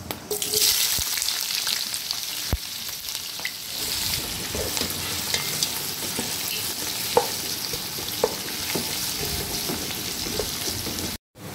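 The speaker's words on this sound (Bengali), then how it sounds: "তেল গরম হয়ে গেছে, আমি 3টে তেজপাতা দিয়ে দিলাম, একটু গোটা গরম মশলাও দিয়ে দিলাম। এখন পেঁয়াজ দিয়ে দিচ্ছি।" Onions dropped into hot oil already holding three bay leaves and whole garam masala spices for a Bengali chicken curry, a steady close sizzle and crackle throughout with occasional stirring clicks.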